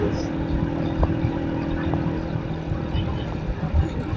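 Motorcycle engine labouring in fourth gear while being pushed up a mountain climb on the road from Lahore to Chitral, a steady droning hum with wind noise throughout.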